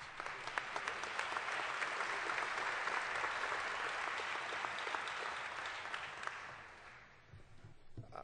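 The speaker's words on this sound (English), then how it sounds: "Please hold your applause, ladies and gentlemen, until our last student has been recognized" Sustained applause from a graduation audience at an engineering school's senior recognition ceremony, with dense steady clapping for about seven seconds that thins out toward the end.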